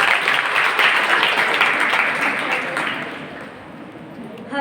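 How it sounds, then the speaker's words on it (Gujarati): Audience applause at a college feedback event, a dense burst of clapping that swells and then fades out over a few seconds. "ફરી એકવાર જોરદાર તાળીઓ થઈ જાય"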